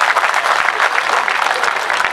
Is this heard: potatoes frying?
no